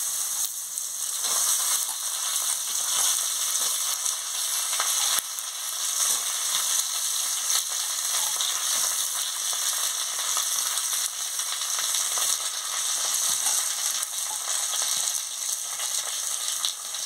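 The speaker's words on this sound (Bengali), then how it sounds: "হলুদের গুঁড়ো দিয়ে দিচ্ছি, পরিমাণ মতন নুন দিয়ে দিচ্ছি, দিয়ে ভালো করে ভেজে নিচ্ছি।" Eggplant and potato pieces fry in hot oil with dried chili in a pan, giving a continuous close sizzle with occasional stirring scrapes throughout, no voices.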